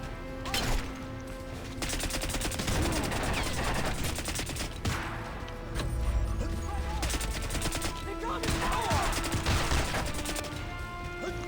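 Gunfire in Crysis Remastered on Nintendo Switch, rapid automatic bursts and repeated sharp shots layered over booming impacts and crashes, loud and continuous with brief pauses between volleys.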